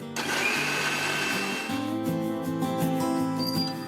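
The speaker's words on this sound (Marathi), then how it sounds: "आता आपण हे मिक्सरच्या भांड्यात वाटून घेणार आहे।" A mixer grinder runs on boiled sprouted horse gram, a continuous close motor whir that shifts pitch partway through as the load changes, with no one talking.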